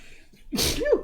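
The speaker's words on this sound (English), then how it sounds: "now that I've sneezed out my system" Someone sneezes once, sharp and close, with a quick inhaled gasp just before the burst.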